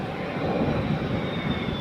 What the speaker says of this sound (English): This F-111 shooting huge flames known as a dump and burn maneuver.